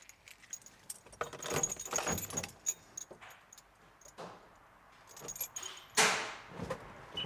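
Keys jangle and rattle in the ignition of a VW Transporter, with several close, sharp metallic bursts separated by quiet pauses, the loudest near the end.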